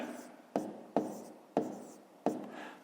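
A pen writing on paper during a fifth-grade maths exercise, with four sharp, evenly spaced stroke attacks that each fade into a scratchy trail, close and fairly quiet with no talk.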